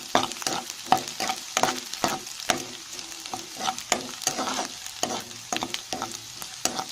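Garlic sautéing in a pan for tomato thokku, a close sizzle punctuated by quick rhythmic stirring scrapes and taps of a spoon, repeated throughout with no talking.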